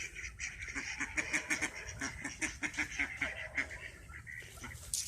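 Ducks being herded into a pen quack and honk in a busy, overlapping chorus of repeated calls at close range, rising and falling in rapid bursts with no speech heard.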